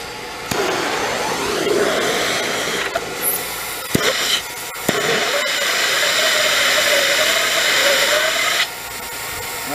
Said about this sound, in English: I'm going to turn my blower on.